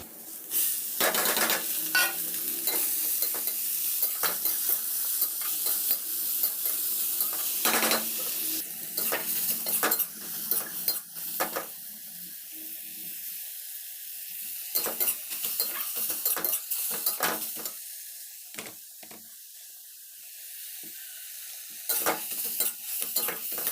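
Ridge gourd frying in a pan on a home stove, with a continuous sizzle broken by repeated sharp scrapes and clinks of a utensil stirring against the metal, close and fairly loud, no talking.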